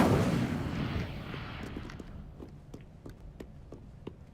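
Incendio fire spell cast in Hogwarts Legacy, a dense whooshing burst of flame that fades into a series of sharp crackling ticks, with no one speaking.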